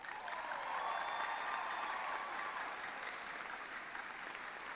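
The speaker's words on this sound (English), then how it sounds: "I believe they deserve a great round of applause." Audience applause at a 2018 commencement ceremony: sustained clapping from a large crowd heard at moderate distance, steady and even in intensity, with no voices over it.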